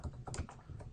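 Quick burst of keystrokes on a computer keyboard as a router IP address is entered, several close, light taps in under a second over faint background hum.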